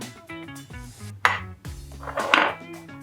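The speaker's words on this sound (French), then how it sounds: "on mélange la crème avec le chocolat" Cream stirred into chocolate in a bowl, with a utensil clinking and scraping against the bowl in a few bursts, close and moderately loud over a low background hum.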